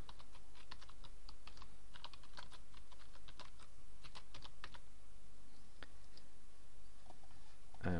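Keys on a computer keyboard are typed in quick bursts of close clicks while a password and new user details are entered into a WordPress account, with short pauses between runs.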